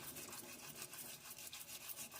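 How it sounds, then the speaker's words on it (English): A toothbrush scrubs glue off a plastic scale model being weathered and rusted, a rapid back-and-forth scratchy rubbing in repeated strokes, close and fairly soft, with no talk. "we'll start with the toothbrush first and see if the toothbrush starts taking it off"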